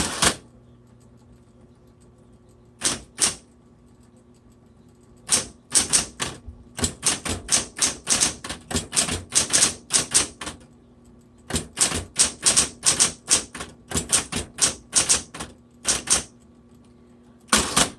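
Keys of a 1960s Smith-Corona Coronet Automatic manual typewriter striking in quick bursts with short pauses between, close and crisp, no voices.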